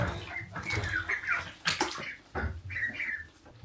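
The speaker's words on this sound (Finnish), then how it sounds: "Täällä ankkojen kylpy." Young ducks peep and chirp busily while water sloshes and splashes around them in a bathtub, close and lively.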